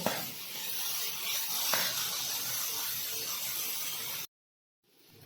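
Sabudana khichdi frying in a pan makes a loud, steady close hiss and sizzle for about four seconds, then cuts abruptly to silence before a fainter hiss returns.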